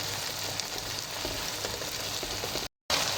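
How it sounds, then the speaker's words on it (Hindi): Chili paste and tomatoes fry in a pan with a dense, continuous sizzle close up, broken by a brief silent gap near the end. "सब मिर्चों के पेस्ट और टमाटर को चंद मिनट हम अच्छी तरह कुक करेंगे,"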